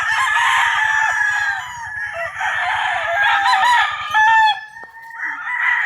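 Several chickens cluck and a rooster crows loudly nearby, with a low rhythmic engine-like rumble underneath for the first few seconds.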